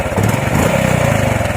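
A Honda RS125Fi motorcycle engine with a fault sputters and stumbles as the throttle is opened, a close, loud, uneven mechanical chugging over a brief burst.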